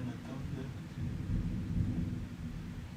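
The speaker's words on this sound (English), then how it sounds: "lightning and the thunder." Thunder rumbling during a rainstorm, a deep low roll that swells and fades over several seconds, heavy and continuous at moderate distance.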